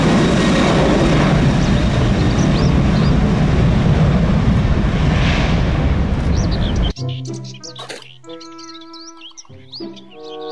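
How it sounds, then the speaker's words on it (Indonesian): A toy airplane sounds off with a dense, loud whirring roar for about seven seconds, then switches abruptly to a sparser run of electronic beeps and chirpy tones. "Pesawat terbang."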